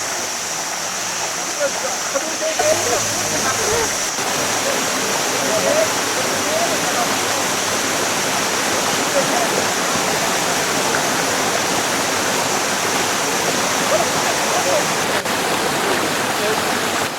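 Waterfall in Guryong valley, a steady broadband rush of falling water close by, continuous and loud throughout, with occasional faint talk underneath.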